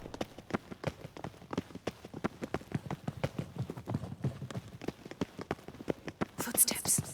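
Footsteps in The Witcher 3 sound as a steady run of sharp, close taps at a brisk walking rhythm, with quiet voices murmuring in the background.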